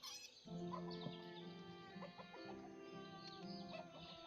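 Chickens and chicks clucking in the village-building game Ostriv, faint continuous layered clucks and soft calls with a steady background tone underneath, no talk.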